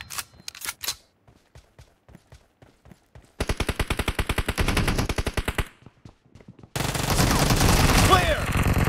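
Gunfire in a video game team deathmatch: sparse single shots at first, then a fast steady burst of automatic fire, a brief lull, and a dense sustained volley to the end, loud and close.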